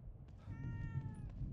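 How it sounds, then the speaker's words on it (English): A cat in the horror video game The Evil Within 2 gives a single drawn-out plaintive meow, faint and somewhat distant over a low rumbling game ambience. "The cat crying here."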